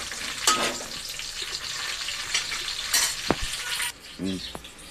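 Onion, green chillies, curry leaves and ginger paste fry in a pan with a continuous close sizzle, broken by stirring scrapes and a couple of light utensil clinks near the end.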